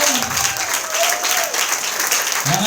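Continuous dense applause from a church congregation at an anniversary service, loud and even, with brief vocal sounds rising at the start and end.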